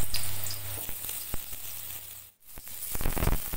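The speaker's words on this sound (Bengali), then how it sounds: "দু চামচ সর্ষের তেল দিয়ে দিলাম আর আলু কেটে রাখা ওটাও দিয়ে" Cut potatoes frying in two spoonfuls of hot mustard oil in a heated kadai, a steady close sizzle with a short dip in the middle before it rises again, louder at the end.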